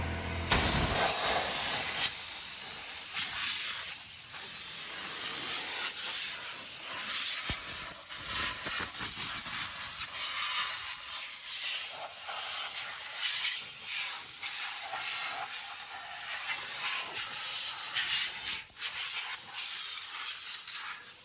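Compressed air blasts out of a pressurized tank in a loud, steady hiss that runs unbroken for about twenty seconds, surging and easing slightly, with no voices.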